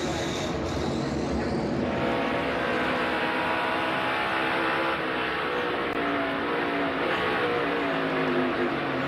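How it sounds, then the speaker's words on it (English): Tyler Reddick's NASCAR Cup car at the Coca-Cola 600 brakes hard and downshifts from full speed, a loud onboard engine roar with falling pitch steps, heard on its own. "You can hear him on the brakes, start downshifting to make sure he can get the car slowed down"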